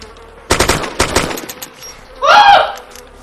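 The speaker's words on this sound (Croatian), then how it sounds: "Čuj pucanje neko." Rapid bursts of gunfire in the video game DayZ crackle loudly, a couple of quick volleys, followed by a short whooshing electronic effect.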